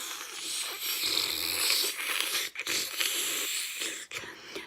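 A voice imitates the Sleestak creature from Land of the Lost with a breathy, raspy hissing noise, repeated in short bursts with brief gaps between.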